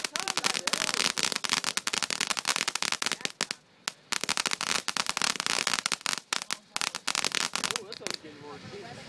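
Dense, rapid volleys of firecrackers and fireworks popping and crackling on a beach at New Year, loud and close, continuing almost without pause with only brief gaps, and voices heard faintly underneath.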